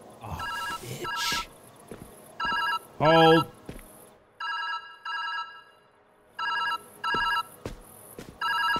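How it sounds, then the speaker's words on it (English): A telephone rings in the video game Viewfinder, with repeated short electronic ring bursts in an irregular pattern, interrupted by a brief spoken word. "The phone is ringing."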